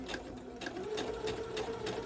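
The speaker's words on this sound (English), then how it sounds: "I'm doing just a basic straight stitch all the way around" A sewing machine runs a basic straight stitch around the curved edge of an apron pocket, giving a steady, fairly quiet rhythmic needle chatter throughout, with no talk.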